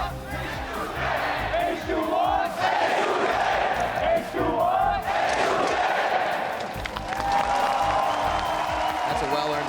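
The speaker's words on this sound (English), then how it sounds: "they've been very loud today cheering for H2K from the start" An esports arena crowd at a League of Legends playoff match roars and cheers for H2K, loud surging yells and whoops rising and falling in waves while a caster talks over it.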